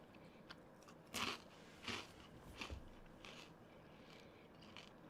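Takis rolled tortilla chips crunched during bites at a Super Bowl watch party, giving a few sharp close bursts of crunching spaced about a second apart over a quiet room background.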